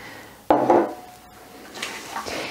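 Two cups of quinoa are stirred into a vegetable bake, giving a sudden scraping clatter against the dish followed by softer rubbing strokes, fairly close and with no talking.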